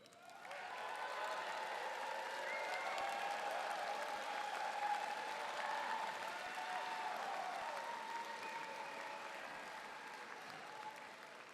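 An audience at a 2023 doctoral and MFA commencement ceremony breaks into sustained applause and cheering, swelling quickly and holding as a dense, even roar of clapping for about ten seconds.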